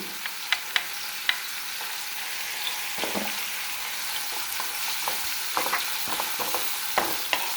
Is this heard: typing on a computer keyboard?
no